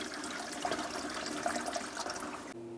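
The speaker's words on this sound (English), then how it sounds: "You can drain the rest of the fluid." Transmission fluid drains from a Chevrolet Colorado oil pan in a continuous splashing pour, close and steady, before cutting off abruptly near the end.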